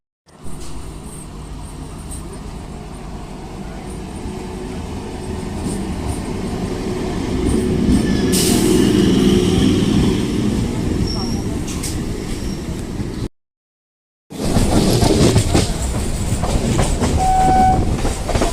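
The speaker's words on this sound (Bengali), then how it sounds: "ট্রেন আসার সময় হয়ে গেছে" A train rolls into a station, its loud rumble and clickety-clack building and swelling over several seconds with a brief horn, then a short cut and continued heavy rail noise, crowd chatter faintly underneath.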